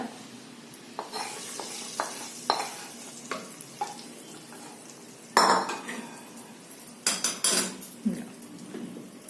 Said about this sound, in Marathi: अशी ही चमचमीत फोडणी आपण आता त्या खिचडीवरती ओतून घ्यायचंय